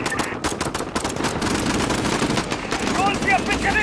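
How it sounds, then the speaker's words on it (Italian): Rapid automatic gunfire in Call of Duty Modern Warfare at Piccadilly Circus, dense crackling volleys with shouted voices layered over the shots. "Colpi a Piccadilly Circus!"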